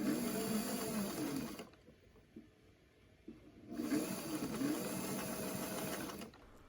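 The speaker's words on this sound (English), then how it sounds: "I'm going to just do one stitch of, one top stitch holding this trim in that little ditch." Sewing machine top-stitching a strip of trim onto a flat Regency-style sleeve, a close, steady whirring run that stops for about two seconds of quiet handling, then resumes at the same even pace.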